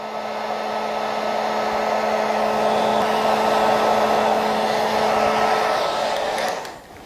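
A heat gun blows hot air onto a covering, a loud, steady whooshing roar with a constant motor hum that runs close up for several seconds before cutting off near the end.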